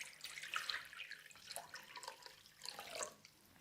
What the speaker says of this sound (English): In goes our hot bath water.